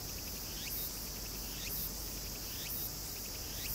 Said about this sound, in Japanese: セミっていうのは 地球の昆虫なんですよ